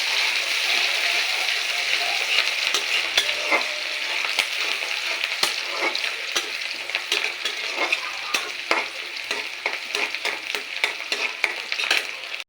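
Chopped onion frying in hot oil in a pan, stirred with a utensil: a steady bright sizzle with repeated scraping clicks and taps throughout, close and fairly loud, with a voice speaking briefly over it.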